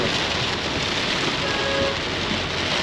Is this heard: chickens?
no